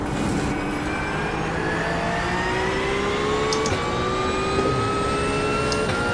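A hypercar passes on the outside during a Daytona 24-hour GT3 race in a racing video game, heard over a steady, loud engine drone with rising and shifting gear tones and no talk.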